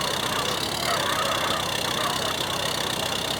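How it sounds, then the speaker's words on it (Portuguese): A struggling car engine in GTA Online gives a steady, loud, strained drone with a rough mechanical texture, unbroken for a few seconds. "O motor não aguenta."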